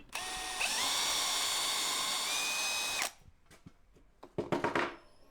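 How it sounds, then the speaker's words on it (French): An electric drill whines loudly and steadily for about three seconds while fitting roof skylights in a van conversion, then stops, followed by quieter clicks and a few rattling knocks. "Mets ta perceuse droite."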